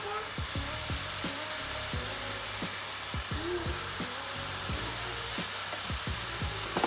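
Sliced onions fry with chopped green chilli and curry leaves in a pan, giving a steady sizzle broken by repeated scraping stirs of a spoon against the pan.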